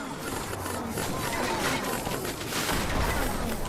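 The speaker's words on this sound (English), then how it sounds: "that's a huge explosion" A dense, roaring explosion barrage from the video game Hordes of Fate fills the space, a sustained loud rumble with crackling bursts running throughout, with no voice.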